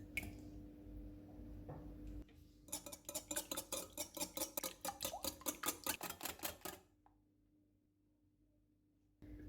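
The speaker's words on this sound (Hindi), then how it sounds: "एक बाउल में अंडे डालेंगे और इनको फेंट लेंगे।" Eggs are beaten in a bowl with quick, rhythmic metallic clinks for about four seconds, close and clear in an otherwise quiet kitchen.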